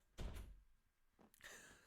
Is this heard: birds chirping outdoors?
no